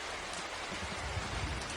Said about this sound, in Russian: Холодный дождь стучит по крыше.